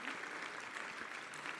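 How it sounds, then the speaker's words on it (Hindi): An audience at the inauguration of Lokrang and the Ravindra Sabhagam Kendra applauds in welcome, a faint, distant, steady patter of many hands. "उनका भी तालियां बजा के स्वागत कीजिए।"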